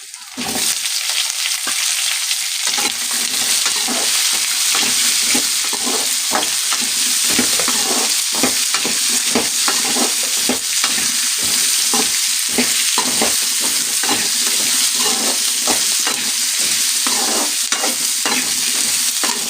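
Onions sauté with ginger and garlic in a pan for a spicy tomato-onion chutney, a dense, constant sizzle broken by frequent scraping strokes of a spatula. The stirring clatter repeats through the whole stretch, close and loud, with no talking.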